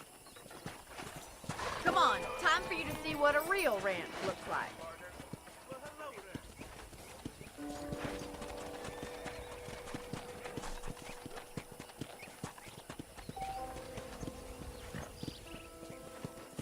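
Horse hooves clip-clop at a riding pace in Red Dead Redemption, loud and close at first and then steady under ongoing talk, with a brief whinny early on.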